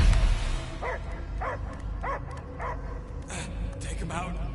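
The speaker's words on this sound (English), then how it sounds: "I hear only barking" A dog barks in the Guardians of the Galaxy video game, giving a regular run of five or six short barks at an even pace. Game ambience runs underneath, and a few brief sounds come near the end.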